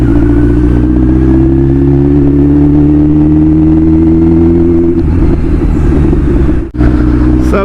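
A Kawasaki Z900 motorcycle fitted with a new exhaust revs loud and close, its deep engine roar holding steady for several seconds before a brief dip and return.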